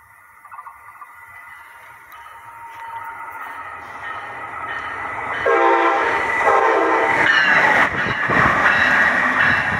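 A single locomotive runs along the track, its rumble and horn-like tones building steadily louder as it nears, with no talk over it.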